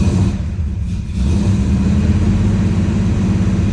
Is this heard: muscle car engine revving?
yes